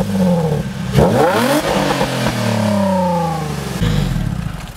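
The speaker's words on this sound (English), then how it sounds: "Or just rev our exhaust in the car park like Chavs." A V6 car's exhaust revving in a car park, loud close engine bursts rising and falling in pitch with several sharp throttle blips, no talk over it.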